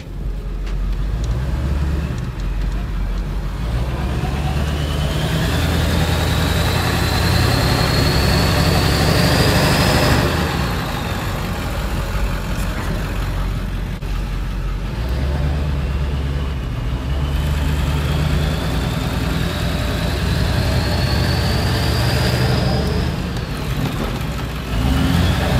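A Ford 7.3 Powerstroke diesel truck on 40-inch tires drives along, its engine a loud, steady low rumble that rises and falls twice as it shifts through gears.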